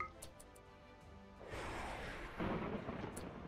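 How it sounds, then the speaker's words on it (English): A thunder strike in the colony game RimWorld rolls in as a broad, rumbling crash that swells and lingers, fairly faint and alone without talk. "Okay, what about a thunder?"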